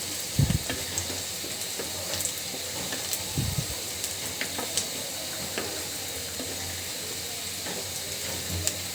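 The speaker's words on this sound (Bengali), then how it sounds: "পেঁয়াজটা কিন্তু একবারে ব্রাউন করার কালার করে ফেলবো" Onions fried with a cinnamon stick in a pan until brown: a steady, close sizzling hiss with occasional soft stirring scrapes and faint clicks throughout, no one speaking.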